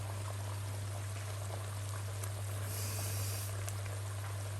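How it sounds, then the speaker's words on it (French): Meat broth pours into a pot in a soft, faint, continuous stream over a steady low hum, close and without talk. "Je vais rajouter le jus de la viande, le bouillon de la viande, je rajoute."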